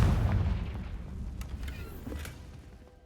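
A Confringo blasting spell explodes in Hogwarts Legacy, opening with a heavy low boom that rumbles and fades over a few seconds, followed by faint crackles and debris.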